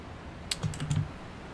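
Several quick taps on a computer keyboard, a short burst of four or five close, crisp key presses over quiet background hiss.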